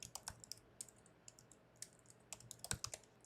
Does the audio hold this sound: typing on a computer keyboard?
yes